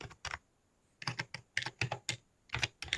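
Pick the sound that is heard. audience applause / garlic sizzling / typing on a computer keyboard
typing on a computer keyboard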